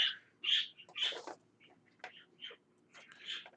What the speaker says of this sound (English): the birds start going when I start talking